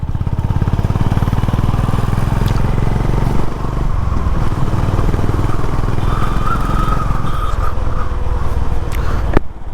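Honda CB350 motorcycle engine pulling under load in fifth gear after an ECU update, accelerating through city streets; a steady, loud, close engine drone with throbbing low rumble throughout, rising slightly near the end.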